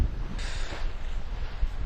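Wind buffets the microphone aboard a sailing boat, a steady rushing roar with low rumbling gusts and faint water noise underneath.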